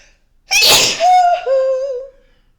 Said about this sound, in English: I have to sneeze again.